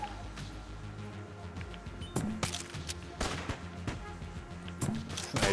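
Sniper fire in a video game cracks out in several sharp shots at uneven intervals over a low game background. The shots are moderately loud and distinct, with no speech.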